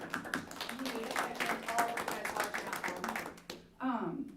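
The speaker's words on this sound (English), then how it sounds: "So I just want to give you guys a round of applause." Scattered clapping from a small group at a school board meeting, fairly close and steady for a few seconds before fading, then a voice starts speaking.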